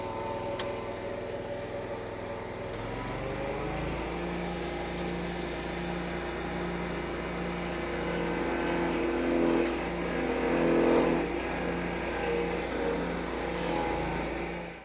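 Stump grinder sweeping down into a tree stump, its engine droning steadily and then dropping in pitch as it bites in, with a continuous mechanical whine and scraping grind building toward the end.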